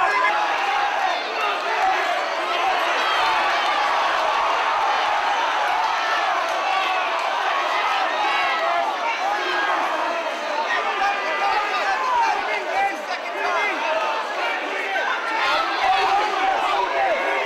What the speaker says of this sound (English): The crowd's a little bit over-exuberant here behind us, cheering on Johnson